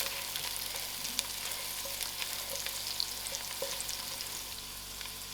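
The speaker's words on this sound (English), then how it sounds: "allow these onions to fry till it's soft" Onions, garlic and dry chilies fry in oil in a pan for wedding-style dhal with brinjal, giving a steady close sizzle with scattered small pops and crackles and no talking.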